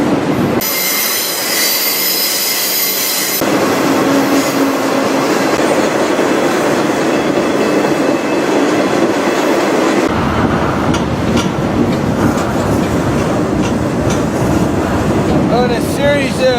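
Riding aboard a moving freight train bound for Sioux City, Iowa: loud, constant rumble of wheels on rails with rhythmic clacks, a high squealing whine early on, and sharp metallic clunks toward the end.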